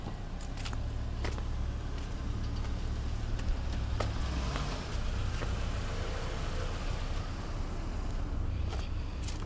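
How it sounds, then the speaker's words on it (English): A noisy Toyota engine running steadily, a loud continuous rumble close by with a few clicks and knocks over it, no talking. "Crank that Toyota up. Pretty noisy."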